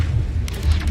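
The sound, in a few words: Arresto Momentum spell cast in Hogwarts Legacy video game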